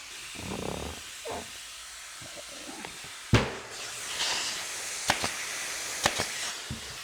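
Hissing from a steamer hose while a seat cover is steamed during an 80's Honda MB5 Sport moped restoration: bursts of steam hiss with sharp clicks and knocks, fairly close, no talk.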